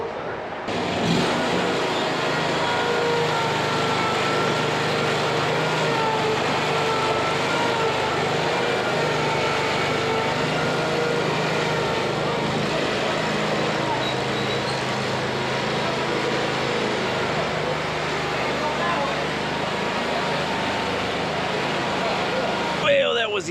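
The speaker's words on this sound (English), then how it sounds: "The motor did not like running at a 45-degree angle for too long there." A Harbor Freight engine fitted to a commercial lawn mower runs steadily at close range, a continuous rough engine drone lasting throughout with voices occasionally over it.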